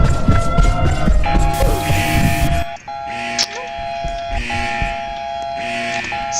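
A video game siren in Cheese Escape 2 wails in repeated steady electronic tones, starting after a burst of noise and continuing loud and even for several seconds, with a player's voice talking over it.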